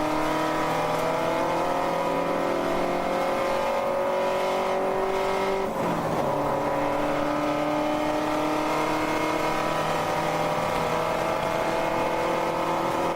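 Race car engine droning steadily as it works slowly through the bus stop chicane at Daytona during a 14-hour endurance race, a continuous loud note with a brief gear shift partway through.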